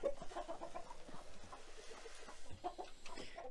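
A flock of farm chickens clucking and murmuring nearby, overlapping soft calls in a steady busy chatter with no talk.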